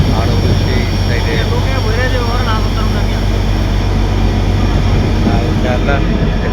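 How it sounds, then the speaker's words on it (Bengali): A small trawler boat's engine drones loudly and steadily close by on the water, a constant low motor hum filling the whole stretch while a person talks over it. "এখানে ছোটো একটা ট্রলার যাইতেছে"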